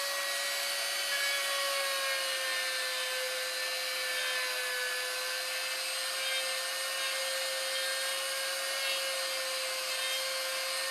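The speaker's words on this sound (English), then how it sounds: "You really have to Dremel out and redefine these eyes where they're set right." A Dremel rotary tool grinds out and reshapes the eyes of a resin piece, giving a steady high-pitched whine with a constant tone and an abrasive rasp, close and continuous with no talk.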